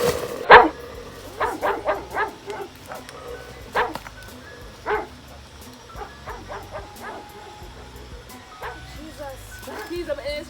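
A dog barks in a string of sharp, fairly close yaps and woofs, spaced irregularly across the stretch, some louder than others, with voices talking underneath at times.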